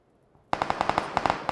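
Rapid automatic gunfire in an online shooter game, a sharp burst of about a dozen evenly spaced shots that starts abruptly after a near-silent moment.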